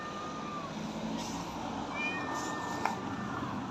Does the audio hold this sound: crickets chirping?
no